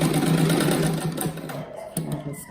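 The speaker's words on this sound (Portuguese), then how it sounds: "Daí agora eu faço uma costurinha aqui em cima desse aqui." Sewing machine stitching fabric scraps on a patchwork rug, a steady close whirring run that pauses briefly and starts again, with no talk.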